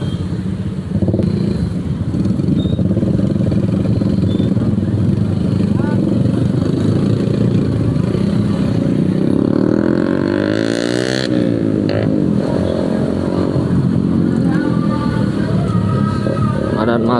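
A motorcycle engine runs steadily and loudly close by for the whole stretch, a continuous low rumble with a brief rising swell in the middle, while someone talks over it.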